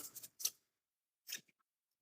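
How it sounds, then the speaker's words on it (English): A few quick snips of scissors cutting a small opening in a plastic piping bag of tempered chocolate, two short close bursts separated by a pause, with a faint tick after. "I'm going to cut just a little"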